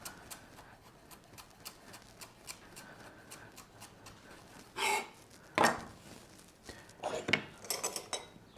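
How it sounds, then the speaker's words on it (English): A knife slices through a bunched-up bundle of cilantro crosswise, stems and all, on a cutting board, giving a series of quick close cuts with a few louder chops and clustered strokes near the end. "Bunch up the cilantro and then slice it crosswise, stems and all."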